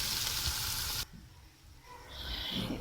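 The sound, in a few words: garlic, ginger and green chili paste sizzling in browned onions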